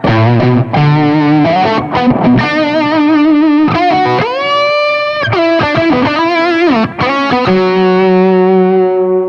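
Electric guitar driven through an old TubeWorks tube driver set for high gain, playing a loud, sustained, harmonically rich distorted melodic line with bends and held notes, close and alone.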